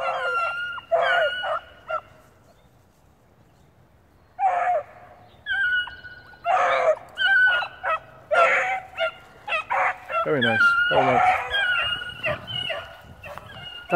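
A black dog barks in loud, repeated bursts with yelps and howl-like cries, close by, while a person briefly speaks.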